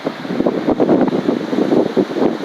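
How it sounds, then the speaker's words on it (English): Wind gusting outdoors at sunrise on the winter solstice, a steady low rumbling roar buffeting the microphone with uneven swells throughout, no voices. "The wind has picked up a tad."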